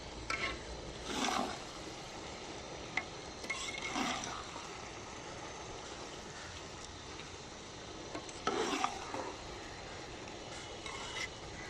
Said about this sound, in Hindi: अभी इसको मिक्स कर रहे हैं हम।